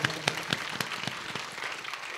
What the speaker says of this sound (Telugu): దేవుడని నమ్మినోడు గట్టి చప్పట్లు కొడదాం.